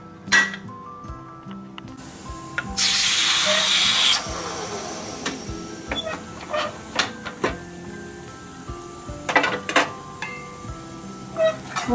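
A pressure cooker holding okra for Chettinad vendakkai mandi lets out a loud, sustained steam hiss for about a second and a half, surrounded by clinks of pots and utensils and scattered kitchen clatter.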